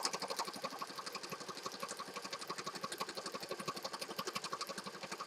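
A sewing machine stitches through layered paper and fabric scraps for a spring scrappy journal, a steady rapid needle chatter with rhythmic pulses running throughout at close range, with no one speaking.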